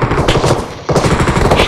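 Rapid automatic gunfire in PUBG Mobile, loud close bursts of shots rattling in quick succession, with a brief pause midway before firing resumes.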